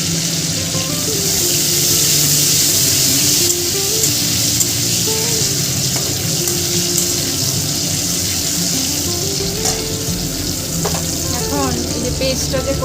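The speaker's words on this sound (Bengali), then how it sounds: "কালো জিরে ফোড়ন দেব, দুটো শুকনো লঙ্কা, একটা তেজপাতা" Nigella seeds, two dried red chillies and a bay leaf temper in hot oil for jhinge aloo posto. A loud, continuous close sizzle hisses throughout, with faint background tones and occasional small crackles.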